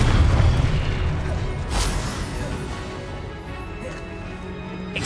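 A Confringo blasting spell in Hogwarts Legacy booms with a heavy low rumble that starts strong and slowly fades, with a brief sharper burst near the two-second mark.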